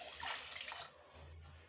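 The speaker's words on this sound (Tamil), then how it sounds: "இப்போ இது கூட வேணும்னா நம்ம கொஞ்சம் தண்ணி ஆட் பண்ணிக்கலாம்" Water is added to a simmering South Indian fish curry (meen kuzhambu), giving a soft, brief splashing pour that fades into near silence, all quiet and close.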